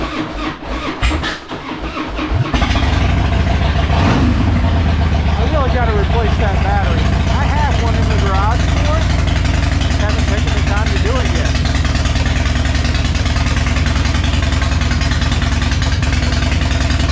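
A Harley-Davidson Fat Boy motorcycle engine starts up, revs, then settles into a loud, steady, close-up idle with a deep continuous rumble. Brief rev swells come early on.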